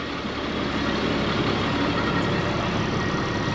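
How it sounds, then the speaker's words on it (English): A 330 CAT diesel in a 2001 GBM Cruisemaster Class A motorhome idles as a steady, even, broadband drone, close and unchanging throughout. "Motor's running right now."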